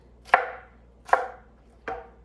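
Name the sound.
knife chopping vegetables on a cutting board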